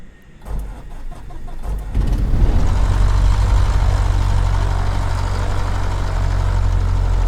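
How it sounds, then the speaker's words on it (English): Cessna 152 engine in Microsoft Flight Simulator: a brief starter crank with a few rhythmic turns, then the piston engine catches and settles into a loud, steady low idle rumble, no voices. "And we're gonna start her up."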